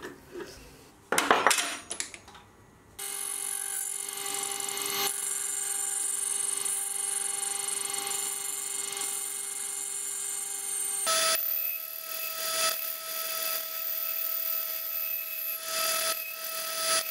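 A tool post grinder spins on a metal lathe, grinding a tap, giving a steady high-pitched whine with ringing metallic tones after a few sharp clanks at the start, holding constant with no talk.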